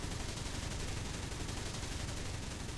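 Continuous rapid anti-aircraft cannon fire in War Thunder, a dense, unbroken roar of shots held loud and close throughout.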